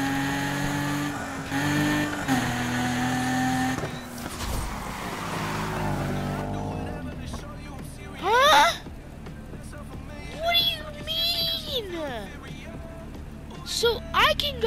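A race car in Need for Speed Heat drones with a loud, sustained engine tone that climbs through gear changes for several seconds, then gives way to quieter, intermittent bursts of engine revving.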